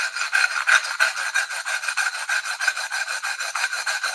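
A piece of brick is rubbed back and forth along a cut tile edge to smooth it, about twenty quick, even rasping strokes close up with no talking.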